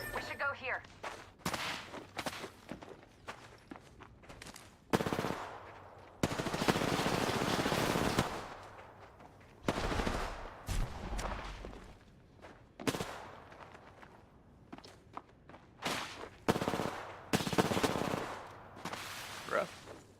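Rapid bursts of automatic gunfire and shots from a video game come in clusters with short gaps, fairly loud, alongside other game noises.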